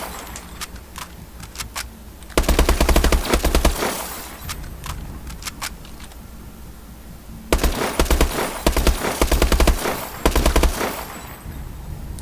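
Rapid automatic weapon fire in Call of Duty Advanced Warfare, two long loud bursts separated by scattered single shots and short volleys, with metallic clicks and rattles between.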